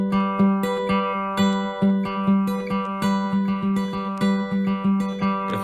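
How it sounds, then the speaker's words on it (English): Fingerpicked acoustic guitar playing a song's picking pattern, a steady rhythmic stream of plucked notes and chords over a ringing low note, close and bright with no voices. "It's called a finger picking pattern"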